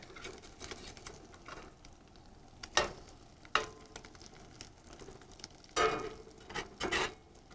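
Eggs frying in a newly seasoned cast iron pan, a low steady sizzle with a few sharp scrapes and taps of a utensil against the pan, close and fairly quiet.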